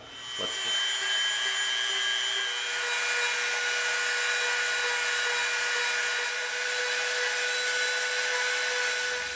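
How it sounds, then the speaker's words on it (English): A Dremel rotary tool whines at a high, steady pitch, running continuously and close by for several seconds with a constant tonal hum and no talking over it. "First thing, let's use our Dremel."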